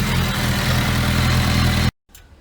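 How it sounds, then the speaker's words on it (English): A Suzuki Bandit motorcycle engine idles steadily up close while warming up, a loud continuous low rumble that cuts out abruptly near the end, leaving faint background noise. "we're letting the engine warm up again, get the oil circulating"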